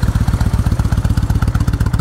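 Kawasaki Nomad VN1600D motorcycle with 18,464 miles idling up close, a loud, even, rapid low thumping pulse that stays steady throughout.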